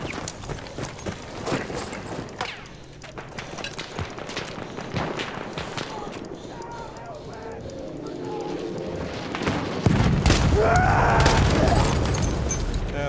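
A grenade explodes with a heavy, sustained roar amid constant battlefield gunfire and clatter in Battlefield 1's Sinai Desert Conquest mode, the blast swelling loud late in the clip and lingering as a rumbling wash.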